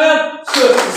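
High school class doing the rhythmic 'tepuk semangat' clap chant, a voice chanting first and then a sudden burst of group clapping filling the second half.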